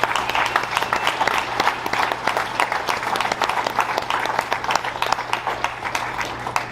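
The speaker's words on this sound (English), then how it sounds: "let's give them a big round of applause" A banquet audience claps for the tech officials of a truck and tractor pulling association, a sustained and fairly loud round of applause with individual claps standing out throughout.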